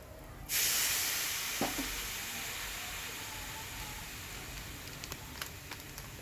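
Sudden loud hiss as water hits a hot pan of spring vegetables cooked with bori, easing into a softer steady sizzle with a few faint clinks.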